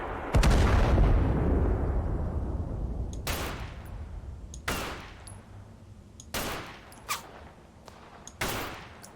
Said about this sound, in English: Firing at me as well.